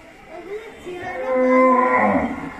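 Cattle and bulls at a cow shelter moo in a long, rising low call that swells loud near the middle and holds before fading, with faint background noise and no talking.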